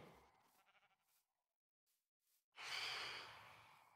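A sheep bleats loudly in the Minecraft survival game, one sustained bleat following quieter breathy sounds and short pauses, with no talking.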